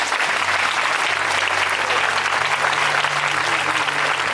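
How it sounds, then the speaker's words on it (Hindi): Loud, sustained applause from a crowd at a bishop's consecration service, dense and even throughout with a low hum underneath. "जोरदार ताली बजाएंगे।"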